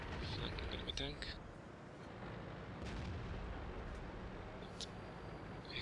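A T29 heavy tank's main gun firing in a tank battle game, one sharp blast near the start followed by a rumbling tail and engine drone, with a second fainter crack later.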